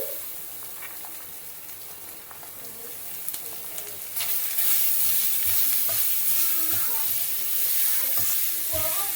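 Carrots hit hot oil with ginger garlic paste for vegetable fried rice, bringing a sudden burst of loud sizzling that continues steadily with occasional stirring clatter.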